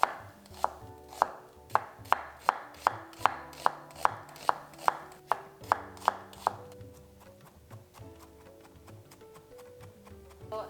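A small onion chopped with a knife on a board: about a dozen sharp, evenly spaced chops up close, then softer cutting sounds trailing off, with no talking.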